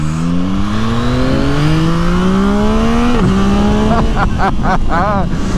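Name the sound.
Yamaha MT-09 SP motorcycle accelerating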